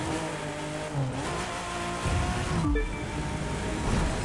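A Lancia Stratos rally car engine in The Crew 2 drones steadily at close range, revving with shifting pitch, a brief dip and surge midway, over rushing road noise.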